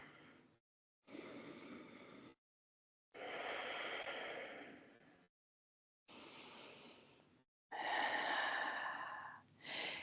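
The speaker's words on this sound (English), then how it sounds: "See if you can breathe in through your nose, out through your nose." Slow breaths in and out through the nose during a vinyasa yoga session, five long soft airy inhales and exhales separated by brief silences, close and quiet, with no talking.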